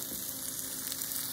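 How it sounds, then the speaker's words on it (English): A constant, broadband rushing hiss of water boiling in a pot for macaroni, steady and fairly close, with no other sounds. "some water over here that's boiling for my macaroni"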